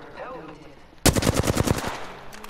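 Automatic weapon fire in the Apex Legends shooter game: after a quiet second with faint game sounds, a loud rapid burst of gunshots rattles out in quick succession, then trails off with a few scattered shots.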